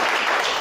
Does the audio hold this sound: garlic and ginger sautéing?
no